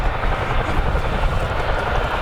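A Boeing CH-47F Chinook twin-rotor helicopter flies at a summer air show at Duxford, its engines and rotors producing a loud, continuous, heavy thrumming roar close by, with an announcer speaking over it.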